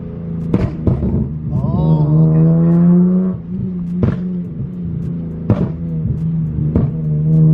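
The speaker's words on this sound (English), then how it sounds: "And obviously the higher the RPM you get, the louder it's gonna be." An Infiniti Q50s engine revs up and holds a loud, rising whine, then drops back to idle between several sharp throttle blips.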